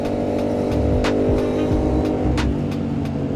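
Motorcycle engine running steadily while riding, a continuous close drone with shifting low rumble and occasional brief higher bursts, no voices over it.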